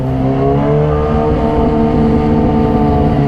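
A Kawasaki ZX-636 motorcycle with a full-system exhaust and a replaced air filter idles, its deep, steady engine rumble close and loud throughout.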